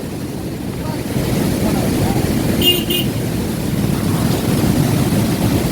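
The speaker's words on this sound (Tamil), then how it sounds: "இப்போ மழை காலமாக இருக்கிறதுனால இதுலேருந்து தண்ணி திறந்து விட்டுக்கிறாங்க" Water released from Poondi dam rushes toward the sea in a broad, steady roar of flowing water mixed with wind buffeting, with a faint brief voice in the background.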